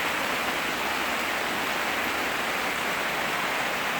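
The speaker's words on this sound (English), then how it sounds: "Listen to that rain, it's insane." Heavy tropical downpour in Puna, Hawaii, a dense, steady roar of rain pouring and splashing onto flooding ground, loud and continuous with no pauses.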